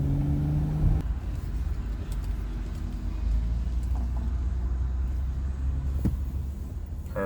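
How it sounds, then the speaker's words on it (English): A Honda Ridgeline pickup with squealing differential accelerates through a sharp turn, giving a steady low engine and road rumble throughout with no squeal evident, plus a brief clunk near the start. "Accelerating into a sharp turn."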